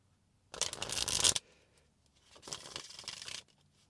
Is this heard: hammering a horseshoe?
no